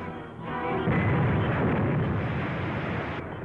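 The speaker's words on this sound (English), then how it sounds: "That's a three-inch shell they're firing at us." A three-inch artillery shell fired during an attack, heard as a heavy, loud roaring blast that swells after a brief lead-in and rumbles on for several seconds.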